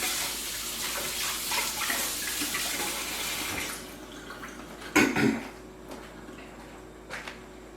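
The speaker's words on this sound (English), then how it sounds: "Gonna rinse our hand real quick." Running tap water rinses hands during grilled chicken prep, a steady broadband rush for about four seconds that then stops, followed by a few brief splashes and drips alone with no talk.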